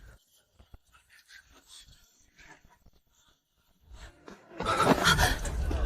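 A small dog from a butcher's shop at the end of a street whimpers in an animated drama. Faint scattered sounds give way to a loud, breathy burst of whimpering and wheezing over the last second.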